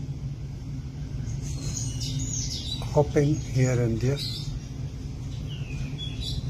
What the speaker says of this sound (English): Emerald starling just looking, chirping.